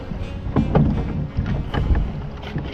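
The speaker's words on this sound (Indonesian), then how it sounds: "Ombaknya besar banget." Big waves on a river slap and splash against the hull of a boat in quick, irregular bursts, close and fairly loud, with wind rushing across the microphone.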